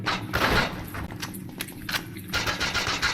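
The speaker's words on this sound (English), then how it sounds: "Oh my god, it was a grenade!" A grenade explodes in the video game You Are Empty, giving a sharp burst followed by rumbling debris and crackling shots, close and loud amid scattered combat noise.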